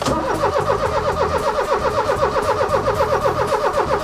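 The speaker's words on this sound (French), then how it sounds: "je vais essayer de démarrer la voiture" A Ford Taunus engine cranks over and over without catching, a loud, steady rhythmic churn of the starter that runs the whole time, close by and with no speech.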